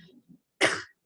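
A single harsh cough from someone with a cold, loud and close, bursting out after a moment of quiet murmuring, at a talk on island infrastructure.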